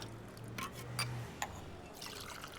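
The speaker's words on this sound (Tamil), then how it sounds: "தண்ணி ஊத்துறா தண்ணி ஊத்துறா" Water pours and trickles in short bursts, with a few splashy clinks against a container in a quiet indoor space.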